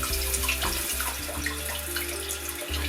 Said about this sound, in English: there's a stream of water that's going to spring all over that little nozzle that pops down